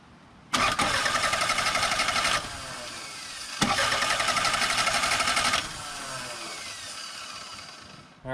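A Toyota Camry engine cranks over during a compression test with the tester fitted to one cylinder: two loud, close bursts of rapid, even starter churning, each lasting about two seconds, with a short pause between.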